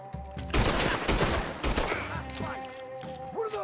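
Gunfire in Red Dead Redemption 2 erupts as a dense, loud fusillade of overlapping shots and echoing cracks. It goes on for several seconds and thins into scattered reports, with ricochet-like whines near the end.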